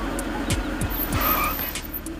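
A car in a street scene slows and brakes to a stop, a steady low engine rumble joined by a few brief tire skids and squeals, close and fairly loud with no voices.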